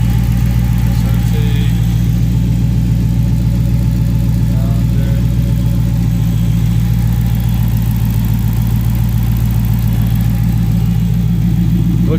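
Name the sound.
2009 Dodge Challenger SRT8 engine revving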